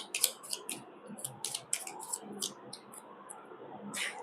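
Tarot cards shuffled and drawn by hand for a Hindi tarot reading, giving quiet, scattered flicks and soft clicks in irregular bursts, with a louder snap near the end.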